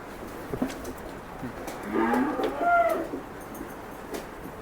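A low, drawn-out moo from cattle some distance away, with faint bird and outdoor sounds around it and no talking.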